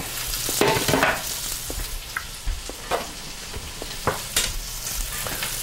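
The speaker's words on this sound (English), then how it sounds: "So I'm gonna let that simmer" Pot of chili cooking on the stove, giving a steady close sizzle and bubbling with scattered short clinks and stirring knocks throughout.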